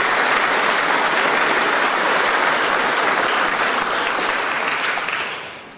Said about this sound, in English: A round of applause for our three finalists,